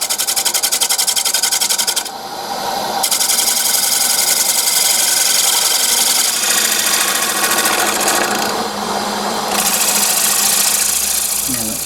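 Mahogany-family hardwood spinning on a wood lathe, held in a chuck and turned so the bottom can be machined: a loud, steady whirring drone with a short dip partway through, lasting the whole stretch with no talk.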